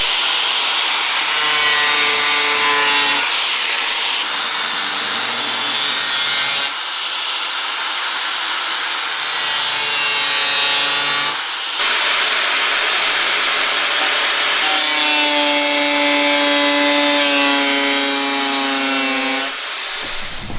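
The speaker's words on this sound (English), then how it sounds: "So, switch to a grinder." An angle grinder cuts a snorkel hole through the body of a 2017 Toyota Tacoma, a loud whining, screeching cut in several long passes separated by short breaks as the tool's pitch rises and falls.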